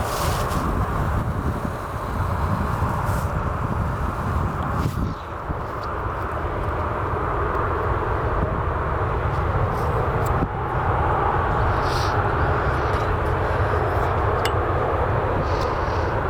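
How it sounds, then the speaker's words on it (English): An aircraft passes over near Portland in rough weather. A broad, steady roaring drone holds for the whole stretch with slight swells and dips, loud and unbroken, with no talk over it. "I'm guessing we have an aircraft coming over here right now"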